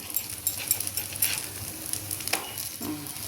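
Banana stem adai frying on a hot pan, a steady crackling sizzle with scattered pops and a few scraping stirs, close by and without speech.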